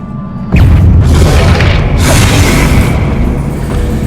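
A single loud Confringo spell explosion from the video game Hogwarts Legacy bursts in sharply after a brief quiet moment, followed by a sustained rumbling roar with crackling debris.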